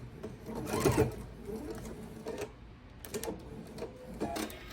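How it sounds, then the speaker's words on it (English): A sewing machine stitches pieced half-square triangle quilt blocks in quick runs of rapid mechanical chatter, with a short pause between bursts, fairly quiet and close. "I know I can securely pull my pin out and finish sewing."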